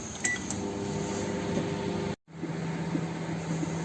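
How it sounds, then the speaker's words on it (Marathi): A microwave oven hums steadily as it heats semolina soaked in water, a constant mechanical drone with fan noise, briefly cutting out to near silence partway through before resuming just as evenly. "मायक्रोवेव्ह 900 टेम्परेचरला आपण 30 सेकंड्स देणार आहोत."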